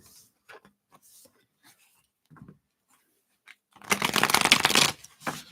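A few faint taps and rustles, then a burst of oracle card shuffling, a brisk riffling flutter lasting about a second, close by.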